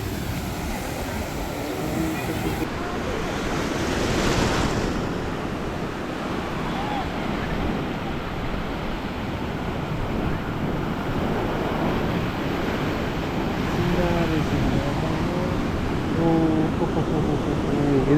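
Large ocean waves rolling and breaking on Kovalam beach, a broad continuous roar with swells rising and falling, mixed with strong wind buffeting the microphone.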